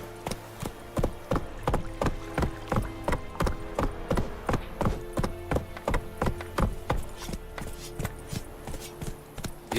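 Hooves of the horse Roach galloping in The Witcher 3, a fast, steady clip-clop on hard ground that stays loud and close for the whole stretch, with no talk.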